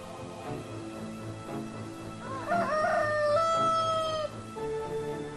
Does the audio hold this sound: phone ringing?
no